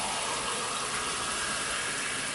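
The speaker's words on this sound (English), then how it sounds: "I'm going to add some cold water" Cold water pours into a pot of chicken stew as a continuous, even rush of gushing liquid that is close and fairly loud, with no voices.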